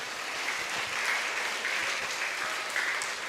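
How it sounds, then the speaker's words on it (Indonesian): A church congregation applauds the Sunday school musicians during a Sunday service at an HKBP church in Depok, giving a sustained, even round of clapping that continues throughout without speech. "boleh tepuk tangan ke pemusiknya."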